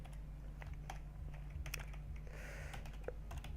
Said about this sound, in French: j'appuie comme un gros ouf sur mon clavier tout le temps